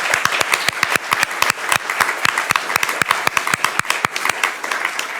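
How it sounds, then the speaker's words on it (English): A small audience claps for conference panelists, sharp individual hand claps clearly distinguishable in an irregular, lively rhythm, fairly close and loud, with no talking over it. "let's give a big round of applause to our panelists"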